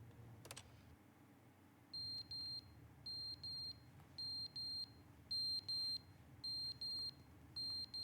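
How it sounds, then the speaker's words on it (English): Repeated electronic beeping from a clock in the video game The Stanley Parable, sounding in regular paired bursts of high, clean tones against a low ambient hum, clear and moderately loud. "Beep come from the clock?"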